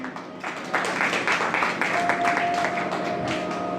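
Audience at a Shrimad Bhagwat Katha in Govardhan clapping hands together, a steady mass of applause that swells after a moment and carries on under a faint sustained musical tone.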